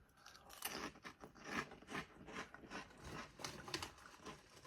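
Seabrook Trebles spicy paprika crisps being crunched and chewed up close, a steady run of crisp, brittle crackles and bites, quiet and continuous with no talking.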